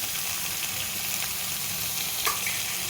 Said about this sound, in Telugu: ఇప్పుడు దీంట్లో ఈ గోరుచిక్కుడు ముక్కలు వేయాలి